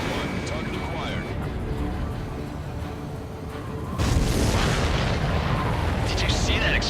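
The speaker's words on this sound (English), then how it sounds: "Did you see that explosion?" A missile explosion in the Ace Combat 7 video game: a continuous rumbling roar of battle that jumps into a louder, denser boom partway through and stays heavy, with radio-style voices talking underneath.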